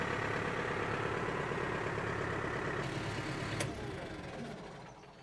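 A tractor engine idles nearby on a turf-slitting job, a steady low rumbling drone that fills the clip and eases slightly toward the end, with a brief sharp click partway through.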